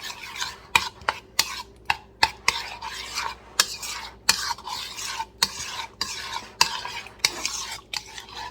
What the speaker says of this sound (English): Let me get a spoon just to mix everything in it.